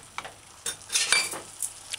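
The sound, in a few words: stir frying vegetables with oyster sauce in pan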